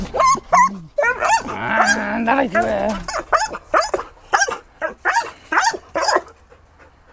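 An agitated dog close by barks, yips and whines over a few seconds during a game of fetch, and a voice speaks in between the calls.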